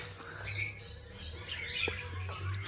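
A short burst of high-pitched bird chirps rises over a low background hum, followed by quieter rustling and faint calls.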